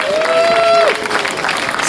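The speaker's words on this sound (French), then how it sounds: "Je vous demande d'applaudir Sarah Chepchirchir." Audience applause at a prize ceremony for a road race in Saint-Germain-en-Laye, a steady dense wash of clapping from a crowd, with a voice briefly carrying over it at the start.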